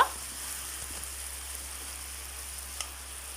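Chicken frying in oil in a pan for an Assamese-style chicken gravy, a faint steady sizzle with soft crackles and a small pop, heard alone without talk.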